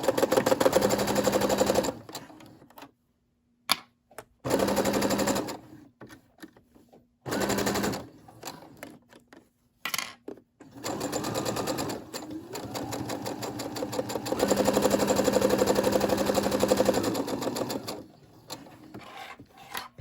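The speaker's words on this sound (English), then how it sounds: "I'm just going to keep sewing straight." Brother SE600 sewing machine stitching straight seams in fabric for reversible gift bags, loud rapid mechanical chatter in several bursts separated by short pauses and brief quiet gaps, close and alone.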